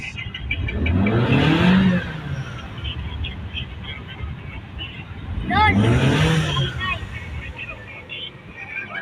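A Mitsubishi Lancer engine idling steadily after a crankshaft sensor replacement, a constant mid-pitched hum with two swelling passes of louder rising engine noise, loud and close throughout.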